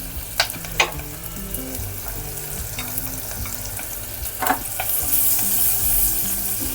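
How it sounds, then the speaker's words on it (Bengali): Coarsely chopped onion and small pieces of garlic fry in a pan, a moderate steady sizzle with a few sharp crackles early on and a hiss that rises toward the end, with no talking. "দিয়ে দিচ্ছি একটু ভারী করে কাটা পেঁয়াজ, যেহেতু এগুলো সব পেস্ট হবে।"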